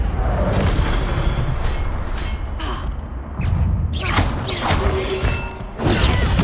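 An Incendio fire spell is cast in Hogwarts Legacy, a loud booming whoosh of flame over a thick rumbling background, with several rushing bursts layered through it.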